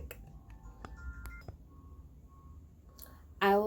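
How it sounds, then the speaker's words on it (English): A phone alarm bursts into loud, rapid electronic beeping right at the end, after a stretch of quiet indoor room noise with a few soft clicks. "You can hear my alarm."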